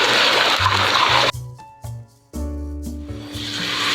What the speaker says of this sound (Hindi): अब यहाँ पर मैंने गोश्त लिया है 1 kg के करीब, वो डाल देंगे, मिक्स कर लेंगे